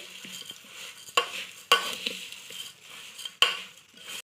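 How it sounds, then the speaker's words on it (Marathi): A spoon stirring and scraping through puffed rice bhel in a bowl, with a few sharp clinks against the bowl between softer rustling crunches, close and quiet. "हे असं थोडं थोडं हे केलं की मिक्स होते."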